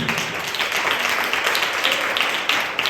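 Applause at a church kids' and youth fellowship program, a steady dense clapping wash from a crowd lasting throughout, fairly loud and without talk.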